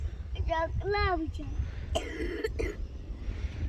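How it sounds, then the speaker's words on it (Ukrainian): A voice with a couple of harsh coughs and throat clearing, close by, over low background rumble. "Ти до докашляєш ще, так?"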